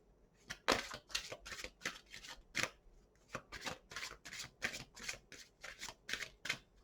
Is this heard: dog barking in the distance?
no